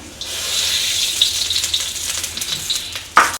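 One spoon of garlic ginger paste sizzles and hisses steadily in two tablespoons of hot cooking oil, with a brief louder crackle burst near the end.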